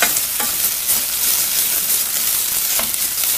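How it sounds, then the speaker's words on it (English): Tomato paste is stirred into browned onions and garlic frying in a pan for beef lasagna sauce: a steady, close sizzle broken by a few scraping spoon strokes, with no talking. "I'm going to add some tomato paste to that. And I'm going to stir that in."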